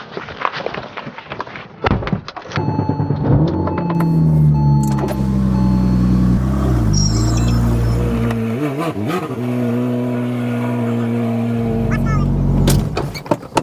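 A damaged Porsche 911 Turbo (997) engine starts and idles with a steady low rumble, rising briefly as it revs, then shuts off near the end, in a garage.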